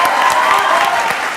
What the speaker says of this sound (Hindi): तालियां इसी लाइन पे चाहिए थी